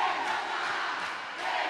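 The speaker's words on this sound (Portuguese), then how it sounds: "Torcida muito forte aí" A large crowd of fans roars and cheers loudly at a dodgeball (queimada) championship final in Brazil, a dense sustained wall of voices rising and falling, with no single voice standing out.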